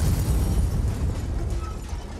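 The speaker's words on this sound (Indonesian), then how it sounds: "mendadak terdengar suara ledakan" An explosion sound effect in a dramatized Indonesian story reading: a dense, rumbling blast with heavy low-end noise that sustains for a couple of seconds, loud and close, with no voice over it.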